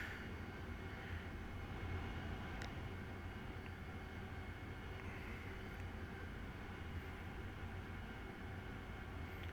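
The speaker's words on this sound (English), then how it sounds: "I'll go ahead and just show you how to do a normal takeoff in the AV-8B" Low, steady roar of an AV-8B Harrier jet engine in the DCS video game, a faint continuous rumble and whine with a couple of small clicks and no voices.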